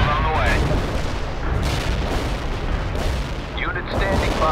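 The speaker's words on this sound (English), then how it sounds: "Perfect artillery hit." Artillery shelling in the real-time strategy game World in Conflict, a dense roar of booms and rumbling impacts under game chatter, with a short radio voice near the end.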